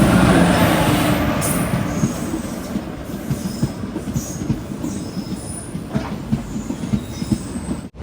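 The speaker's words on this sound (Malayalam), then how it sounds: "കൊല്ലം ജംഗ്ഷൻ റെയിൽവേ സ്റ്റേഷനിലേക്ക് ഇതാ നമ്മുടെ ട്രെയിൻ എത്തിക്കൊണ്ടിരിക്കുകയാണ്." The Kerala Express, a passenger train, pulls into Kollam Junction railway station with loud, close wheel rumble and rhythmic clatter that gradually eases, plus faint high squeals of braking wheels.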